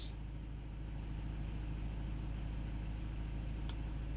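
A diesel engine runs steadily after its injector connector was replaced, a continuous low rumble with a brief faint click partway through.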